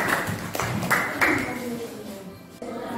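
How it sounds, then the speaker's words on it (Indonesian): Children clapping together in a classroom, a burst of applause with sharp overlapping claps that swell in several waves and then thin out over a few seconds. "Beri tepuk tangan yang meriah"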